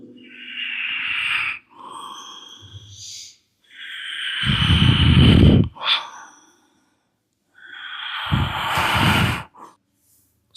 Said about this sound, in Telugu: శ్వాస తీసుకుంటూ శ్వాస వదులుతూ